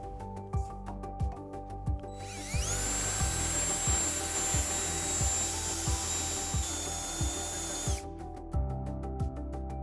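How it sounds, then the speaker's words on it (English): A power drill with a 1/2-inch bit whines steadily at close range for several seconds, bores a hole in a 2021 Jeep Wrangler baseplate under load, then stops, with a rhythmic mechanical ticking running throughout. "we are going to drill out this remaining hole using a 1/2-inch drill bit"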